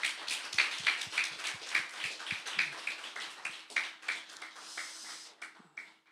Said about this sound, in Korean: 박수로 축복하도록 하겠습니다.